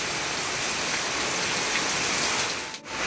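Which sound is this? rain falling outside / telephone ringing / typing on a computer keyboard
rain falling outside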